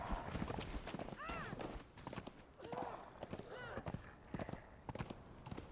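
Horse hooves clip-clopping in the survival game Conan Exiles, steady footfalls at close range mixed with other game sounds and someone speaking over them.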